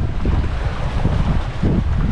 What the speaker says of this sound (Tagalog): Kaya medyo pasok ho ang hangin. Ayan, para din ho nasa laot ang alon.